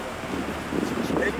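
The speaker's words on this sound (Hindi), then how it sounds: "बड़ी प्यारी हवा चल रही है, मज़ा आ रहा है." Wind sweeps across a seaside sea wall where seawater splashes against the rocks, making a steady, breathy broadband rush that swells slightly midway through the clip.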